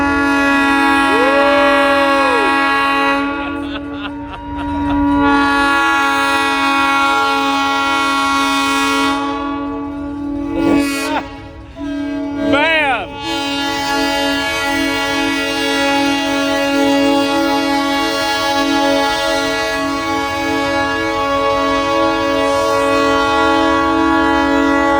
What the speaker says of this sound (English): here comes a steam train right there